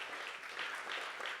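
A round of applause from an audience at a documentary awards event, a soft, distant, continuous patter of clapping heard faintly throughout.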